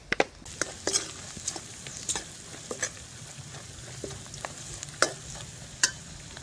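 Quiet sizzling of spice powder frying in oil in a pan, with scattered scrapes and clicks of a spoon stirring, close and soft.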